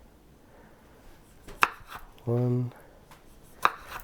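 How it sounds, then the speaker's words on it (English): A kitchen knife slicing vegetables for a beef soup on a cutting board, two sharp chopping cuts near and distinct with a short harmonic rasp between them, a voice speaking faintly. "And just cut them down the middle like that."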